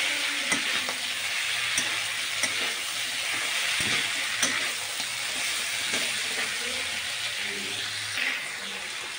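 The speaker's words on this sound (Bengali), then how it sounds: "এভাবে কিছুক্ষণ কষাবো।" Goat liver stir-fried with garam masala in a pan, a continuous crackling sizzle broken by repeated scrapes and clicks of a spatula stirring at close range.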